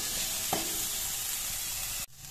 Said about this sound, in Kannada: ಇದೀಗ ಸ್ವಲ್ಪ ಬೇಯಲಿ, 1-2 ನಿಮಿಷ ಇದನ್ನು ಫ್ರೈ ಮಾಡ್ಕೊಳ್ಳುವ